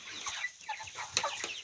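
Young incubator-hatched chickens cluck in quick short bursts close by, with a sharper squawk in the middle of the brief run of calls.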